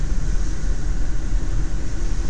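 A Toyota Prius Classic (NHW11) plug-in hybrid accelerating on electric power gives a steady, loud, low rumble of motor and road noise that stays even throughout, with no one talking.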